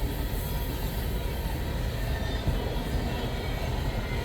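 A CN freight train rolls past south of Ladysmith, Wisconsin, its heavy continuous rumble and wheel noise staying loud and close throughout.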